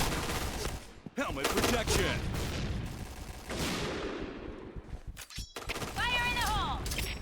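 Rapid bursts of gunfire and explosions in a noisy game soundscape, dense and continuous, with electronic tones near the end.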